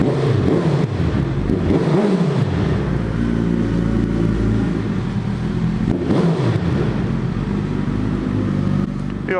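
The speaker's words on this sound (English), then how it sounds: "so we gotta let you hear the bike" A Suzuki B-King motorcycle engine revs up loudly several times, its pitch climbing and falling in repeated surges over a steady rumbling idle, heard close and without talk.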